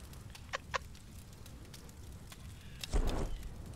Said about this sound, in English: You hear the chicken in the background?